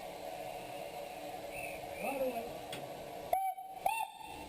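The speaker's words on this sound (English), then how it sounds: "The fireman responds to the guard with a toot on the locomotive's whistle" Steam locomotive whistle on the Keighley & Worth Valley Railway gives two short, clear toots at a station platform after an engine hum with some talk, each blast loud and close.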